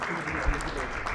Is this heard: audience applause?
yes